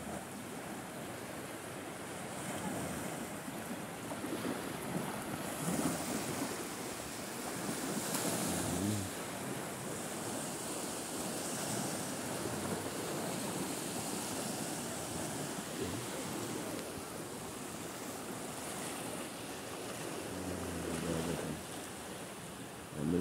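Ocean waves washing onto a Batangas beach in the early morning, a continuous soft surf roar with gentle swells breaking at a distance, some wind buffeting the microphone.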